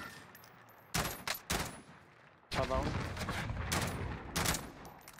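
Bursts of gunfire in the Warzone video game: several sharp shots cluster around the first second, then a long loud volley of rapid automatic fire runs to the end, with players talking over the shooting.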